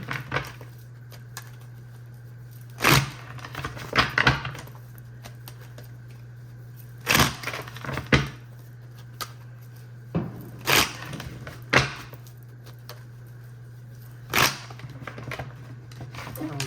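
Tarot cards being shuffled by hand in a quiet room over a steady low hum, with sparse, sharp riffling bursts and soft taps recurring every couple of seconds.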